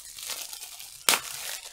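Packaging for a Pusheen stress ball being opened, soft crinkling of plastic with one sharp, loud tear or crumple partway through.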